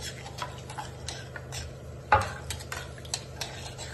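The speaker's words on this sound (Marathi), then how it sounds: "चवीप्रमाणे मीठ, मिक्स करते आहे." Salt being stirred into a pot of zero-oil moong dal khichdi, soft repeated ticks and scrapes of a spoon against the vessel with one louder clank midway, under a faint steady background.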